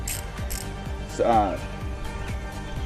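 A 1/4 inch ratchet driver clicks through short bursts of pawl ticks on a 2018 Triumph Bonneville T120 during a sprocket change, close by, with a brief squeak in the middle.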